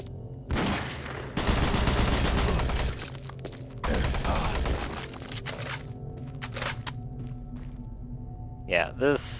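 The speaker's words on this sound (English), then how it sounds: "the rifle just cuts through enemies" Rifle fire in Doom 3 rips out in loud sustained automatic bursts with crackling impacts, pausing between volleys, followed by quieter game sounds and a short electronic warble at the end.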